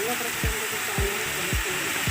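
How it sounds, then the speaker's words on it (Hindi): Chicken fries in oil, Chhattisgarhi style, with a steady broad hiss and a dull low thump roughly every half second, while a faint voice murmurs underneath. "तेल ला डालथन, ओकर बाद तहाँ एला मतलब फ्राई होने देथन।"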